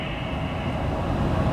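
Amtrak Capitol Corridor train #531 rumbles steadily along the line toward San Jose, a loud broadband roar heard from inside the car.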